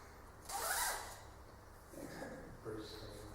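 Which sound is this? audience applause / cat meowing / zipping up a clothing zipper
zipping up a clothing zipper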